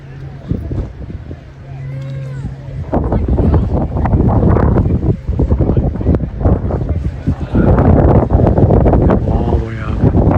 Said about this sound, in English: Try to get out of the wind.